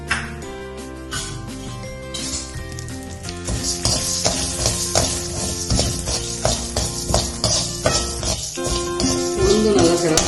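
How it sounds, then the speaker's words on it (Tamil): Urad dal roasts in hot oil in a pan for curry leaf powder, a steady close sizzle with frequent metallic scrapes and clinks of stirring. "அந்த எண்ணெயிலேயே உளுந்து சேர்த்து வறுத்துக்கலாம்."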